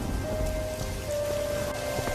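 Heavy rain pours down steadily, a dense hiss of drops hitting surfaces without a break. No voices are heard over it.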